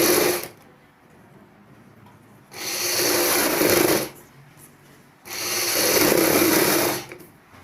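A sewing machine stitches buckram into a choli neckline in two long bursts of rapid whirring, each lasting about a second and a half to two seconds, separated by quiet pauses, close and loud.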